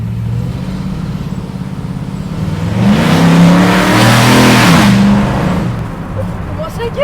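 A vintage car engine revs hard while driving, rising to a loud mid-range roar then easing off, close by with people talking over it.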